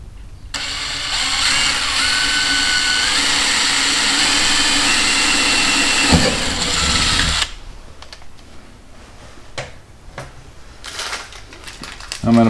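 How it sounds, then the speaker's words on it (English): A power drill runs continuously while drilling a second hole in a Viking trunk for tail light mounting, loud and sustained for about seven seconds, then stops, followed by softer clicks and shuffling. "Might as well drill one here too."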